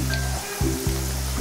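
Hot oil sizzling and crackling steadily as chicken and potato curry puffs fry, heard up close over a low humming drone.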